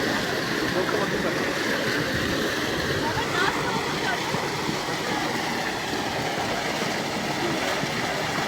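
Water gushes steadily from a spring in dry ground, giving a constant broadband rush that stays even throughout. Someone speaks over the flow.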